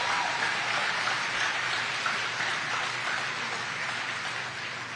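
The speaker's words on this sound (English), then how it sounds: "Give them a round of applause." Steady, dense crowd applause fills the whole stretch, loud and continuous with no talking over it.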